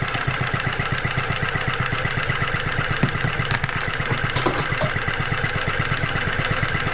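A large hot bulb horizontal mill engine runs on its first start, giving a loud, steady, rhythmic chugging with regular heavy beats. It holds close and constant throughout, with no talk.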